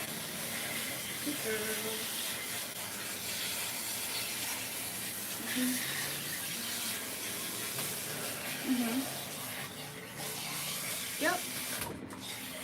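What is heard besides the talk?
water spraying to rinse a cat during grooming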